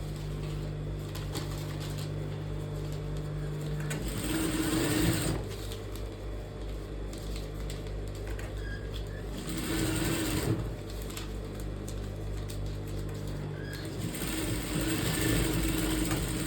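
A sewing machine runs in steady, continuous bursts while stitching a blouse, its motor whirring loud and close with brief pauses and surges in speed; no one talks.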